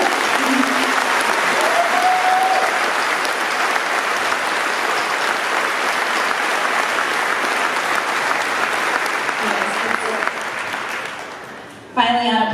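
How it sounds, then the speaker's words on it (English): Long, loud ovation from a high school graduation audience honoring seniors headed into military service, many hands clapping steadily with occasional cheers, fading near the end before a voice briefly cuts in. "Please applaud them."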